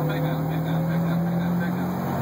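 A turbocharged Parati 1.1 16v engine pulls in third gear at around 3,500 rpm, a steady droning hum with a tonal whine from the spooling turbo, heard from inside the car while someone talks over it.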